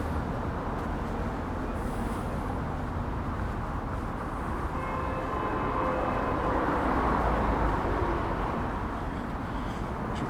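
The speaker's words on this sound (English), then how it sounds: "As you can probably hear, the road here is quite busy." Busy road traffic in Palmanova, Mallorca forms a constant broadband roar of passing vehicles, steady and moderately loud with a heavier pass swelling near the end and no talk.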